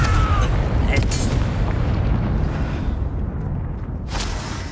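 A Confringo fire spell bursts in the Hogwarts Legacy video game as a loud, deep, rolling boom that rumbles continuously, with a few sharp whooshing flares on top, fading slightly toward the end.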